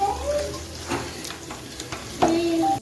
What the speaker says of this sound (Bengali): মাংসটা এখন মশলার সঙ্গে ভালো করে মিশিয়ে নিচ্ছি।